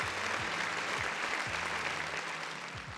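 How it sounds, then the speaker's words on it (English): Steady applause, a dense wash of clapping at moderate volume that carries on throughout with a low electronic pulse underneath. "Let me give a round of applause to everybody in the chat"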